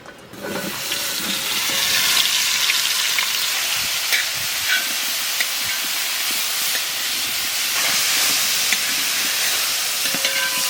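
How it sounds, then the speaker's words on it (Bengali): Soya chunks sizzle and hiss steadily in hot oil with whole garam masala spices for a vegetarian aloo soya biryani, a close, continuous fry with faint clinks of utensils and no voices. "তেলের উপর কটা গোটা গরম মশলা দেবো এবার সয়াবিনটা দিয়ে দেবো"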